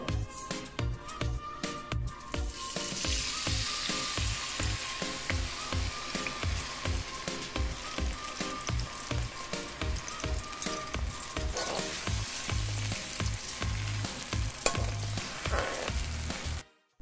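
Green seasoning sizzling in hot oil for a Guyanese-style fish curry, a continuous crackling fry with a low repeating pulse beneath, steady and close throughout before cutting off at the end.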